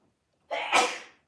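A single sharp human sneeze bursts out after silence, close and fairly loud, with a brief inhale leading into the explosive release that fades quickly.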